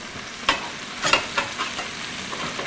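Venison steaks sear in a hot pan with a steady bright sizzle, broken by a few sharp spits and crackles as the meat cooks.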